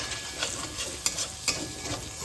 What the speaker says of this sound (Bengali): এটাও এর সঙ্গে আমি ভালোভাবে কষিয়ে নেব।